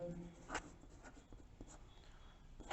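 Pen or chalk writing out a set-theory statement during a Class 11 maths lesson, giving short scratchy strokes in quick bursts, faint and close, with no voice over it.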